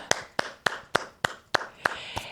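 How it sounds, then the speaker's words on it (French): At the end of an intense exercise class, a few people clap in a steady, fairly quick rhythm, about eight distinct claps that sound close and dry. "Et on va s'applaudir."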